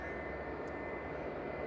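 A passenger jet arriving at Manchester Airport, its engines producing a steady, moderately distant roar with a faint whine above, continuous and unaccompanied by speech.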